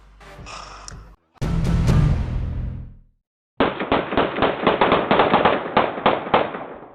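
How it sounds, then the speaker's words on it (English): Rapid gunfire from two gunmen shooting at a Beverly Hills mansion, caught on surveillance audio: a sharp opening blast, then a steady volley of roughly a dozen loud cracking shots in quick succession after a short silence. "These guys fired like a dozen shots in just a few seconds."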